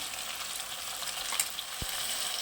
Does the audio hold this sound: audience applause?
no